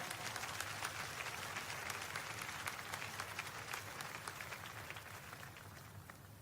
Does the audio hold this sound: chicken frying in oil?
no